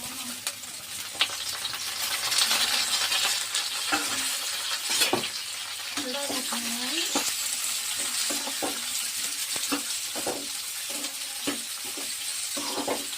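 Chopped onions frying in oil for bitter gourd (kakarakaya) curry, a dense close sizzle broken by repeated clinks and scrapes of a spoon against the pan as they are stirred.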